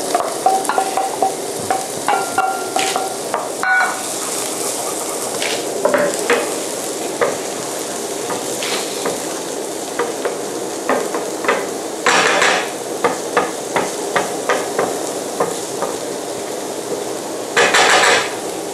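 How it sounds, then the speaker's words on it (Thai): Onion stir-fried in a pan over low heat for a creamy pasta with fermented pork sausage: a soft sizzle under repeated scrapes and clacks of a spatula against the pan, close up, with no talking. "ลงไปผัดนี่ผมใช้ไฟอ่อนนะครับ ผัดให้หอมใหญ่นิ่มนะครับ"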